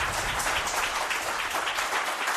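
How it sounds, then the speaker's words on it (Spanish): Studio audience applause on a Spanish paranormal-mystery talk show, a steady wash of many hands clapping at once, fairly close and continuous with no speech over it. "Pido un aplauso de la gente que está aquí."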